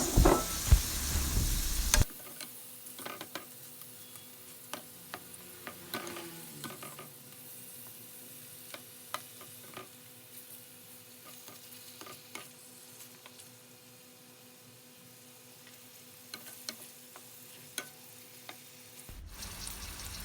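Shrimp sizzling in a hot pan for a Thai sriracha honey sauce, a loud burst as they hit the oil and then a steady soft frying hiss with light ticks and occasional stirring scrapes.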